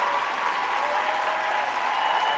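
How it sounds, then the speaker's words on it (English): An indoor audience applauds steadily and densely for cocktail hour on a live sports talk show, a continuous wash of clapping at even loudness throughout. "Round of applause for cocktail hour."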